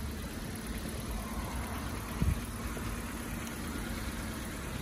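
A 2015 Kia Rio engine idling smoothly, a steady low hum recorded close by with a brief soft knock partway through and no one speaking.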